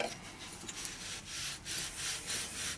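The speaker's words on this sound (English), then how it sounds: "Let's sand the shaft here a little bit so we have a smooth polished shaft" Sandpaper rubs along the rotor shaft of a DENSO alternator for Jaguar and Volvo cars, making repeated close scratchy strokes in a loose rhythm.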